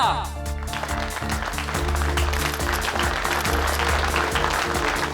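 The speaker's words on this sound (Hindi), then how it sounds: "जोरदार तालियां।" An audience at a staged event gives loud applause welcoming the judges, continuous clapping over a steady backing of music, with voices mixed in.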